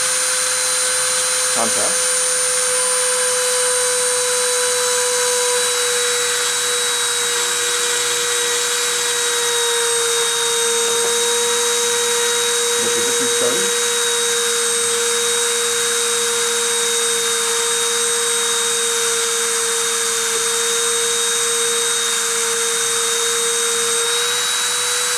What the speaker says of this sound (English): I'm going to turn on the spindle and proceed to deposit.